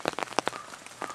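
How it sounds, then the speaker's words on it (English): Rain outdoors in the morning lands as a handful of close, distinct drops and patters in quick irregular bursts, with no voices. "Outside in the rain."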